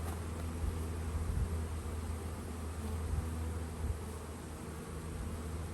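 Honeybees buzzing as a package of bees is installed into a new hive, a soft, steady droning hum from many insects with faint rustling, no voices.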